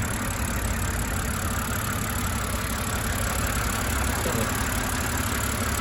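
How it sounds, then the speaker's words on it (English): A 2007 BMW Z4 3.0si engine idles steadily, a constant close-up rumble with a smooth hum that holds level throughout, no voices. "Idles pretty well."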